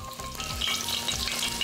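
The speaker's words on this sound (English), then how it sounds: "Next, into some crumbs. And then into some oil." Crumbed chicken lollies frying in hot oil give a busy, continuous sizzle and crackle at close range, with light scraping from a spoon and no voices.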